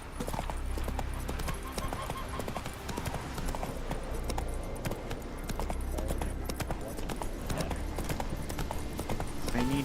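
A horse gallops in The Witcher 3 video game with a fast, continuous clip-clop of hooves, close and loud over game ambience and occasional faint snorts.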